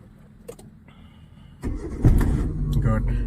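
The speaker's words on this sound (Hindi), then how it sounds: "अभी क्लच दबा के स्टार्ट करेंगे इंजन को हम लोग" A manual car's engine is started with the clutch pressed during a driving lesson in an apartment parking lot, a quiet lead-in giving way to a loud cranking catch and a steady rumbling idle, with an instructor's voice over it.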